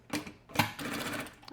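A sewing machine stitches a wallet, starting with a short backstitch: brief bursts of rapid mechanical clatter, a pause, then a sharper burst and steady running stitching up close.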